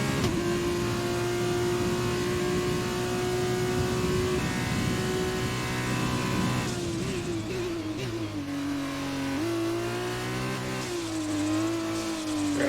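Race car engine in F1 2020 holds a steady high pitch, then shifts and wavers through gear changes and revs, loud and continuous with no talk.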